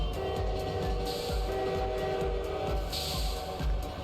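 A train rumbles past steadily in the management game Lobotomy Corporation, a continuous low mechanical drone with rhythmic clacking and a faint sustained tone, moderately loud and without speech.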